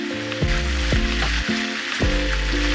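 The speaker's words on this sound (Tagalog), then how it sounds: "iprito na natin ang isdang galunggong" Galunggong fish frying in hot oil in a pan, a dense continuous sizzle close up, with a few soft clinks of a utensil against the pan along the way.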